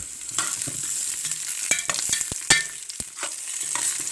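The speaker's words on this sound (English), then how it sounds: "Give it a good stir." Tarragon, thyme and vegetables are stirred in a pot for lobster stock. A soft, steady sizzle sits under a run of sharp utensil scrapes and taps against the pot bottom, close by and without speech.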